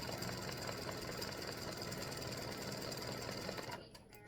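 An embroidery machine stitches free-standing lace Halloween Boo earrings in a loud, steady, fast mechanical whir close by. The run stops abruptly near the end.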